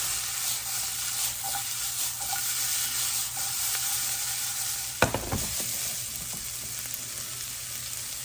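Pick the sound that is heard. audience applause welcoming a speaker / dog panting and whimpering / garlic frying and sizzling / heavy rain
garlic frying and sizzling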